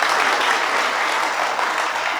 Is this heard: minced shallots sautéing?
no